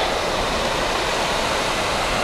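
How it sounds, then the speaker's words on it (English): Fast water rushes down a stream in a wooded park, giving a loud, dense, continuous roar close by with no voices. "Look at how fast the water's rushing down there."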